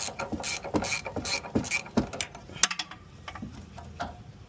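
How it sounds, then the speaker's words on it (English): A ratchet wrench works on the rear air shock of an Infiniti QX80, giving a rapid series of clicking, ratcheting bursts in uneven strokes, close and fairly loud, then lighter clicks trailing off. "get in there with a ratchet wrench and I get it out the rest of the way"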